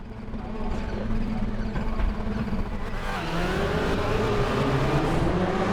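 A TCR race car in RaceRoom launches from the start with wheel spin, its engine droning loud and steady then rising in pitch as it accelerates, with other cars roaring close around it.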